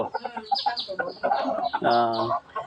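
Two calm, unusually fluffy hens cluck close by in quick, uneven bursts of short throaty calls, one drawn-out cackle rising near the end.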